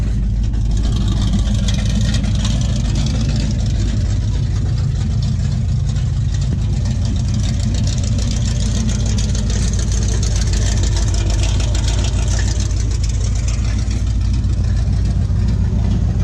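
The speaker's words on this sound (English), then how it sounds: "you can tell this thing gets really loud with the headers open" Loud, continuous rumble of a 600 HP big-block El Camino engine running with its headers open, a deep steady roar holding for the whole stretch with no talk over it.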